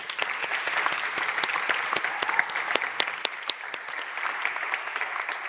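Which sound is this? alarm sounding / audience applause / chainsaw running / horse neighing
audience applause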